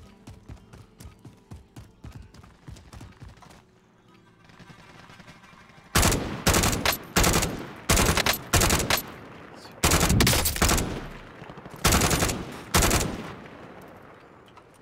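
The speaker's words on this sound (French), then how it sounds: "je sais pas sur qui je tire, mais je tire" Rapid automatic gunfire in the video game Call of Duty: Warzone, loud repeated bursts of shots in quick succession, preceded by quieter gameplay ambience and steady rhythmic in-game sounds.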